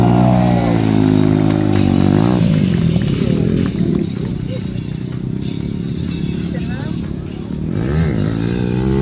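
Army motorcycle riding past during an Army Day parade, a stunt rider balanced atop a ladder on the moving bike: a loud, steady engine drone with rising and falling revs running throughout, under a commentator's voice.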